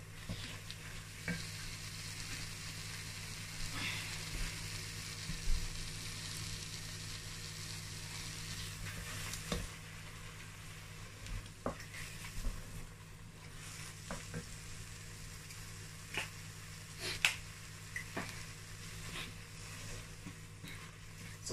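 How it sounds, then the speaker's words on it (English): Seasoned food with black pepper frying in a pan while being stirred, a quiet, steady sizzle with scattered scrapes and clicks of the utensil against the pan over about twenty seconds. "Then I'll stir it together."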